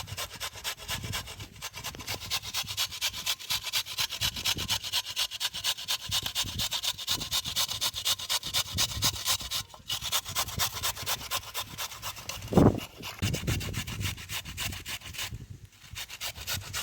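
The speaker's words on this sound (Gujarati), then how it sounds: "એને ખમણવાની છે આ રીતે ખમણી નાખો ખમણીથી" Fresh green turmeric is grated on a hand grater in a steady run of close, raspy strokes. The rubbing goes on for about seventeen seconds, with one sharper knock partway through.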